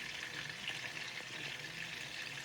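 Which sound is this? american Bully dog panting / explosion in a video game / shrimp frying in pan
shrimp frying in pan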